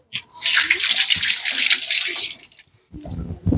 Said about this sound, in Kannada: So onion wash ಮಾಡ್ಕೊಂಡ್ಬಿಡ್ತೀನಿ.